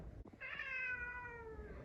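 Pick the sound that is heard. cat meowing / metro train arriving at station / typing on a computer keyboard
cat meowing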